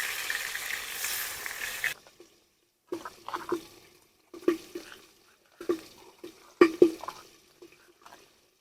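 Pangas fish fries in hot oil over a clay stove, with a loud hiss at first, then quieter bursts of sizzling and crackle as the pieces are turned, separated by near-silent gaps.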